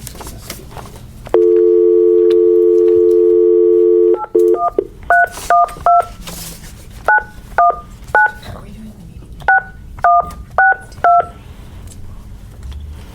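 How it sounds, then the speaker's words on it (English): A steady telephone dial tone holds for about three seconds, then a cell phone number is punched in on a keypad as a string of short, evenly spaced DTMF beeps over faint room background, with no talk. "Were you dialing his cell?"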